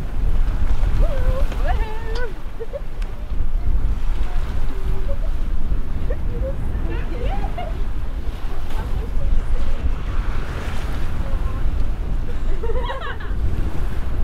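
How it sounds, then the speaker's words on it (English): Strong wind buffets steadily on open water, with the rush of waves and a boat underneath as people talk through the gusts. "the winds are picking up a little bit out here now"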